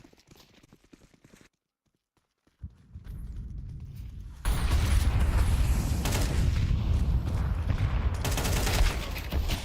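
Dense, sustained gunfire from a competitive video game match, starting after a brief near-silent gap and then swelling into loud, continuous volleys with overlapping shots for several seconds.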